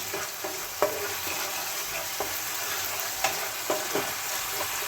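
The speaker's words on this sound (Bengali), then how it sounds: "এবার আবারও আমি 2 থেকে 3 মিনিট মশলাটা ভালো করে কষিয়ে নেব।" Spice paste for a Bengali peas omelette curry fries in a pan with a steady soft sizzle, while a spoon scrapes and stirs through it in several sharp, close clicks and knocks.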